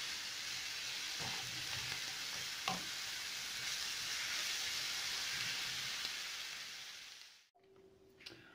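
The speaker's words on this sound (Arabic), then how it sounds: "نخليهم يتشحروا." Chermoula with chopped olives frying and stirred in a pan: a steady, close sizzle with occasional spoon scrapes that stops abruptly near the end.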